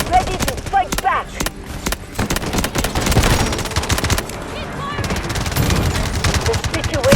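Combat in the mobile shooter Delta Force Mobile, with dense, rapid bursts of gunfire and heavy blasts rattling almost continuously, loud and close, while a voice speaks intermittently over the din.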